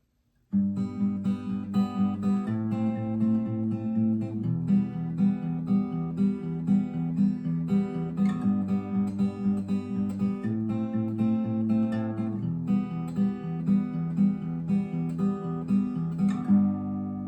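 A guitar plays the intro riff of a song at normal tempo, repeating phrases with clear plucked notes and no talking.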